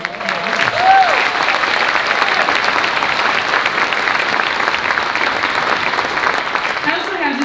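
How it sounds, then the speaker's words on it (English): An audience gives a round of applause at a school fall band concert, steady clapping throughout with a few voices mixed in. "So we should give them another round of applause"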